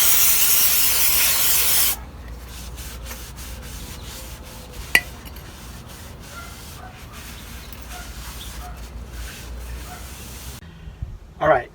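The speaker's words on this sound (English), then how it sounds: "cleaner spray to wipe that down really good and get all the junk off there" A brief loud hiss of brake cleaner sprayed onto a brake rotor on a 1994 Ford F53, followed by a long stretch of quiet rubbing and wiping close by, with soft clinks.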